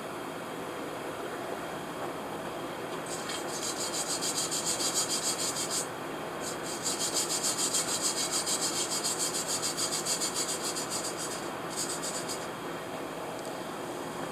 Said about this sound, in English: here's a brass wire brush and a steel wire brush.